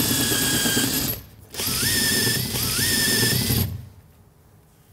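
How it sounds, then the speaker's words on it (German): A power drill whirs in two bursts with a brief pause between them, its pitch rising and dipping as it bites into metal rivet heads on a VW T5 van, then cuts off. "wir müssen hier mit einem Bohrer die Nieten erstmal anbohren und den Kopf wegmachen"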